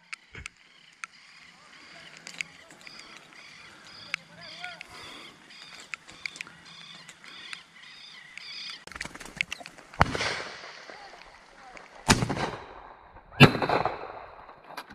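Several sharp gunshots from dove hunting in Chile crack out in the open, spaced a second or so apart, after a stretch of quiet outdoor ambience with distant birds.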